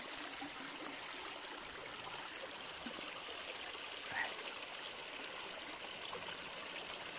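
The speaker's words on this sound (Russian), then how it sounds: "Вот они, горные ручьи, а." Steady rushing and babbling of a mountain stream in a German forest, a broad continuous wash of water noise close by, with no voices.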